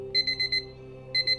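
An alarm clock rings in the morning with rapid electronic beeps in quick bursts of four or five, a short pause, then another burst, loud and near in a quiet room.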